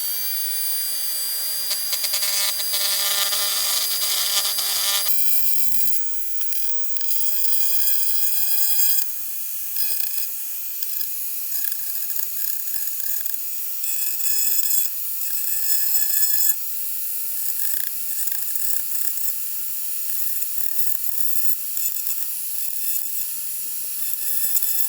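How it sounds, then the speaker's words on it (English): A Dremel rotary tool whines steadily at high pitch, grinding a plastic peg on a WWE action figure, loud and close, with a brief lower-pitched start before settling into a continuous shrill buzz, no voices. "So let's get the Dremel out and running."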